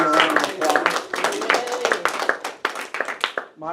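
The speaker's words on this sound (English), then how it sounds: "So give Sterling a round of applause" A small audience applauds, with distinct individual claps that start dense and thin out into scattered, separate hand claps before fading, and a voice is briefly heard.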